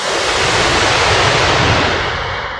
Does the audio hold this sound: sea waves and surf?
yes